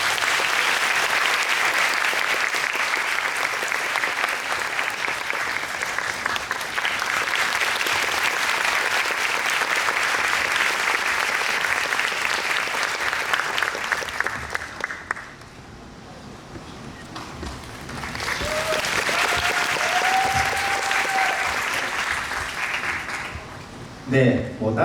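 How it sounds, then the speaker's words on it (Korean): Loud, sustained applause from a large audience at a Busan International Film Festival screening talk, filling the space for about fifteen seconds, dipping briefly, then swelling again with scattered claps and a little murmur. "박수 부탁드리겠습니다"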